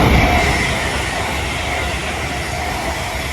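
An Avanti West Coast train from London Euston to Holyhead passes through a station at speed, a steady loud rolling rumble with hiss that slowly eases, no talk.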